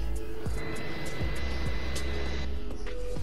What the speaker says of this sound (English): is that freaking private jet in the background?